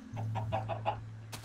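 Chickens in the video game Minecraft clucking in a quick run of five short, evenly spaced calls over a steady low hum, followed by a sharp click at the end; no talking.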